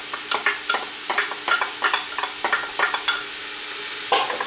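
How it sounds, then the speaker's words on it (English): Pork chorizo frying in a pan with white onion and fresh garlic, stirred again and again so that scraping bursts rise over a steady sizzle, close up with no talking. "Get the meat cooking with the vegetables and the garlic for about 5 to 7 minutes"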